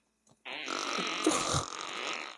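A long, rough fart sound effect in an Ilocano comedy drama, starting abruptly after a brief blip and rumbling on loudly for about two seconds.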